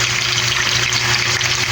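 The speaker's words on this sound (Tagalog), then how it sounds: "first step ko is prito muna konti para medyo ma-brown" Tambakol fish pieces frying in a pan to brown before being cooked in coconut milk, giving a steady, close, continuous sizzle with no talk.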